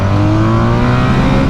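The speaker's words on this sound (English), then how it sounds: "use the blipper down in second gear, and you crack the throttle open." A 2021 BMW R 1250 RT motorcycle in dynamic mode and second gear pulls hard under an opened throttle, giving a loud, steady engine drone with rising harmonics that runs nonstop and close.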